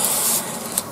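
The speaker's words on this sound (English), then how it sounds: "Why am I grinding off the burrs when I'm just going to be welding it anyway?" A grinder takes the burrs off cut metal bumper pieces before welding, giving a steady, loud abrasive hiss that runs unbroken and close by.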